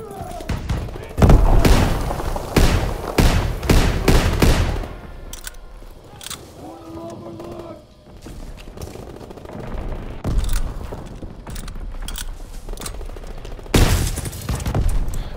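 Call of Duty WW2 video game gunfire: dense, loud volleys of shots and booms, with a quieter lull in the middle before the firing picks up again. A voice can be heard faintly at times.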